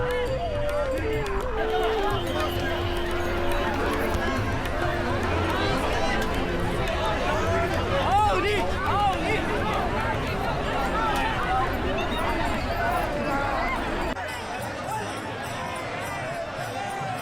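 Huge crowd of pilgrims walking in the Wari palkhi procession, a dense, continuous hubbub of footsteps, chatter and distant music from a massive outdoor throng, easing slightly near the end.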